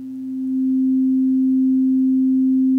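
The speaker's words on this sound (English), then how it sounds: "if I press lightly and then press to the aftertouch area, you can hear I'm getting my crescendo" Pure sine tone from an Osmose synthesizer swelling in volume as key aftertouch pressure increases, rising over the first half second and then sustaining steadily and loudly with no other sounds.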